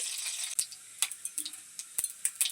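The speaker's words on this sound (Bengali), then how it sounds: "কড়াই দিয়ে দেওয়া হলো সাদা তেল তারপর এর মধ্যে দেওয়া হচ্ছে গোটা জিরে হাফ টেবিল স্পুন" Whole cumin seeds crackle and sizzle in hot white oil in a wok for a vegetable chop, a steady close hiss broken by a few sharp pops and light spoon knocks.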